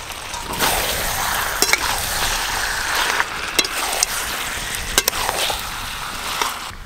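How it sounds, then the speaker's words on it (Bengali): Fried potatoes go into a sizzling mutton curry, giving a loud, steady frying hiss broken by several sharp clinks and scrapes of a spoon against the pot. "ভেজে রাখা আলু দিয়ে দেবো এবার।"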